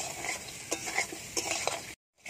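Fried crab pieces, potato and eggplant being stir-fried in a pan, with a steady sizzle and repeated scraping strokes of a spatula, then a brief silence before the sizzling resumes.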